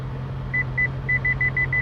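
Front parking sensor of a Holden HSV Clubsport R8 manual chirps in a run of short, evenly spaced electronic beeps, steady and clear over a low idle hum inside the cabin.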